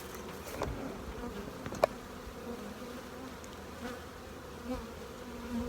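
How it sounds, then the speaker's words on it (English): Honey bees hum in an open nucleus hive box in a late-summer apiary, a soft, continuous low drone with a few faint individual buzzes passing close. "Beautiful box of bees."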